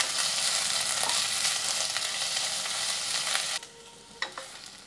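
Chopped onions fry in hot oil, a dense steady sizzle with scraping stirs that drops off abruptly near the end, leaving a few faint clicks.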